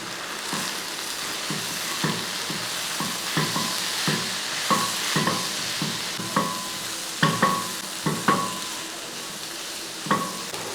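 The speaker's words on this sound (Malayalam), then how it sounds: "ഇനി ഇതെല്ലാം കൂടെ കൂട്ടി ഒന്നെടുക്കാം." Onion curry with three spice powders, including fennel powder, stirred in a pan: repeated close scraping and clinking strokes of a spoon over a soft continuous sizzle, with no talking.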